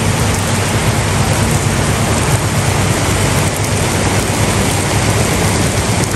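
Heavy rain pours down steadily in Punjab during the first shower of the cold season, a dense, continuous hiss drumming on surfaces with no pauses and a deep rumbling undertone.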